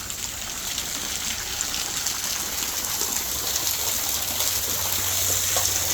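Waterfall in Michigan's Upper Peninsula in autumn, seen from a path behind the falls with lighter flow than usual, a steady broadband rushing wash of falling water, constant and fairly loud with no speech.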